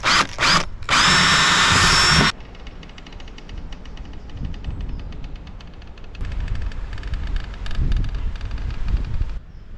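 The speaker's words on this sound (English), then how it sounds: "drilling some pilot holes." A power drill bores pilot holes into a cab storage shelf inside a VW Crafter van build, a loud whine for about two seconds, then lower rough grinding and rattling that swells again later.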